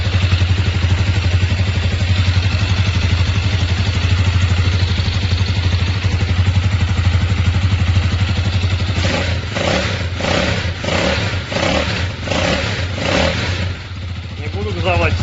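A 164FMM motorcycle engine, freshly repaired after a crankshaft knock, runs at a steady, close and loud idle, with a few brief throttle blips near the end.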